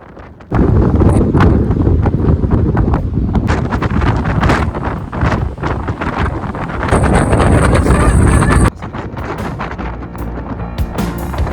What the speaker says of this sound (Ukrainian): Тепер просто відчуйте силу пориву вітру.